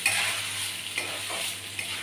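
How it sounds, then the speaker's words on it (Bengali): Soaked rice fries in a pan for jeera rice, giving a steady soft sizzle with a few light scrapes of stirring. "চালটাকে একটু ভেজে নেব অল্প করে"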